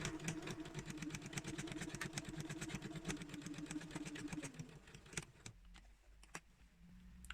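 A sewing machine runs stitching drawstring bag fabric in a fast, even rhythm of needle strokes for about five seconds, then stops, followed by a few scattered clicks.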